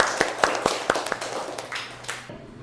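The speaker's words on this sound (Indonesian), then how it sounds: "tepuk tangan semuanya" Hands clapping in a classroom, a short sequence of a dozen or so distinct, fairly close claps in a loose rhythm, tapering off after about two seconds.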